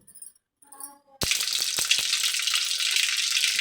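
Curry leaves, chopped onion and tomato hit hot oil in a pan with a sudden loud sizzle that keeps hissing steadily, with a few sharp clinks near the start; before it, a brief quiet voice or faint sound.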